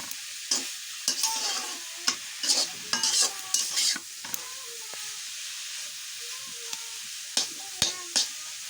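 Greens (shak) being stir-fried in a pan, with steady sizzling broken by repeated sharp scraping and stirring strokes, near and fairly loud, no talking.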